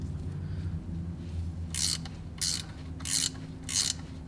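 Ratcheting wrench on a 13mm bolt during a rear motor mount job on a Focus ST: four short clicking ratchet strokes at a steady pace, close and crisp over a low background hum.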